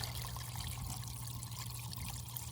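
Water trickles and pours steadily through a sluice box during gold prospecting, a continuous close splashing flow with no talk.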